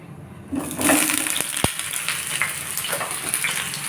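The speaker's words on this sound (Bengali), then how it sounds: "আর এখন সবজিটা ভেজে নিচ্ছি ওইটার মধ্যে দিয়ে ওই তেলটাও গরম হয়ে গেছে" Vegetables hit hot oil in a pan with a sudden burst of sizzling that stays loud and crackly, broken by a sharp metallic clink of a utensil and occasional stirring scrapes.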